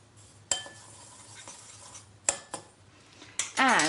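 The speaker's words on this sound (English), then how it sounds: "Stir it in a bit, I think." Smoked paprika is stirred into a pan, a few distinct clinks and scrapes of a utensil against the pan with quiet gaps between them, ending in a short busier clatter.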